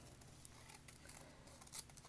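Scissors snipping paper cut out of a book, a quiet close run of small crisp cuts and rustles, with one slightly louder snip near the end.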